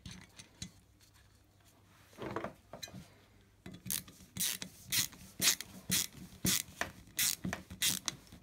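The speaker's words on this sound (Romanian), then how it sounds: "o să fixăm capacul de cilindru cu cele patru șuruburi" Screws fastening the cylinder cover on a Stihl MS 170 chainsaw are tightened with a ratcheting tool, giving a quick series of sharp clicking bursts in close, rhythmic succession after a quieter stretch of handling noise.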